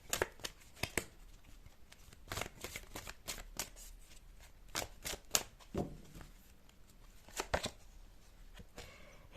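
Tarot cards being shuffled by hand, a brisk run of close, crisp riffles and taps repeating in irregular bursts with no talking.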